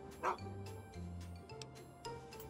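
A dog in Fallout 3 gives a sharp bark followed by soft whimpering and whining, close and fairly quiet over a low in-game ambient drone, with no talking.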